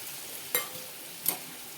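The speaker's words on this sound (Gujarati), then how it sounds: "હવે તેમાં આપણે બટેટાને નાખી દઈએ।" Potatoes go into softened, frying tomatoes in a pan for a dry potato bhaji, with two sharp knocks of a utensil against the pan over a faint, steady background sizzle.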